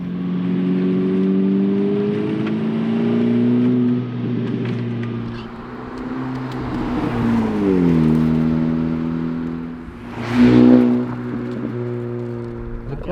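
AWE Touring Edition exhaust on a 10th gen Honda Civic Si, heard from inside at low speed: a steady, droning exhaust tone rising and falling with gentle throttle, plus a brief louder rev and burble near the end.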